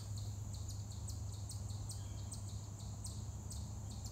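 Birds chirp in repeated short, high calls from the woods at dusk during bow hunting season, set over a steady low hum and insect drone, fairly faint and distant.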